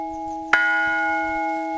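A single loud church bell strike rings out, its bright tone sustaining and slowly fading over faint low background rumble.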